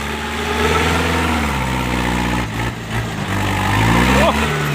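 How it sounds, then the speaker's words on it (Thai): A tractor engine chugs steadily nearby, its low rumble rising slightly as it revs, with people talking over it. "วันนี้รถไถก็ขับด้วยจานต้อมครับ"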